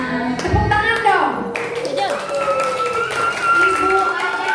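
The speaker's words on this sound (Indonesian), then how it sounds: "Tepuk tangan dong." Group clapping at a school's new-student orientation assembly, with speech and other sounds layered over steady hand claps throughout.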